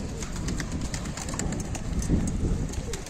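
Domestic Adana pigeons coo softly and repeatedly nearby, their low burbling calls layered over a constant background hiss.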